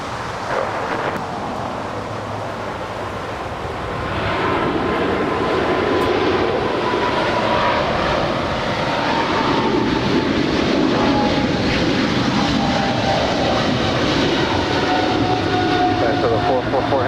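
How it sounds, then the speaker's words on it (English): China Southern Cargo Boeing 777 jet rolling down the runway for takeoff at LAX, a broad roar building after a few seconds and holding, with voices talking over it. "We've got a China Southern Cargo, 777 now rolling down, 25 right."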